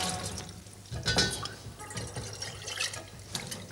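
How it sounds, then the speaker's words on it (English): Water poured out of a teapot into a sink, a short run of splashing and trickling liquid up close, with faint speech partly over it. "Empty your teapot out"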